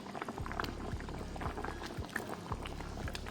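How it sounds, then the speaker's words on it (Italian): Meat alla pizzaiola simmers in a covered pan with a steady close bubbling and soft regular pops of rising bubbles. "Inseriamo quindi la carne all'interno, copriamo con il coperchio e lasciamo cuocere per 10 minuti."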